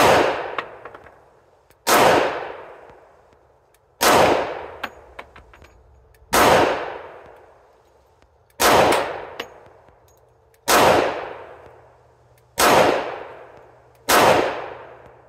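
Eight loud, sharp pistol shots from a S&W M&P 10mm firing Liberty Civil Defense ammunition, evenly spaced about two seconds apart, each with a ringing decay.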